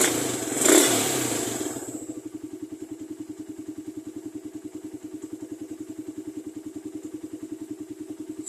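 A motorcycle engine idles low at around 1,250 RPM, a steady, even put-put pulse running close and alone after a brief louder burst at the start.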